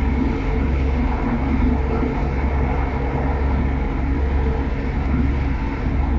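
East Midlands Railway Class 170 diesel unit running between Lincoln and Barnetby, a steady loud rumble of engine and rails heard from on board, constant throughout.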